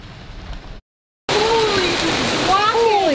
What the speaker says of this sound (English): Can you see it coming down? We needed this rain.